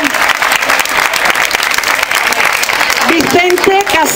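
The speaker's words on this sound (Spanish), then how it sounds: "Un aplauso para los alumnos de automoción." Applause from a graduation-ceremony audience honouring vehicle-mechanics vocational students, dense steady clapping throughout, with a voice speaking over it near the end.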